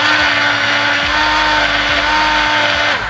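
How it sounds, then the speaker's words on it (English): A hand blender whirs steadily through vegan frittata batter, a loud, continuous motorized buzz close by with slight shifts in pitch as it churns. "After you mix roughly with the whisk, you can use your hand blender,"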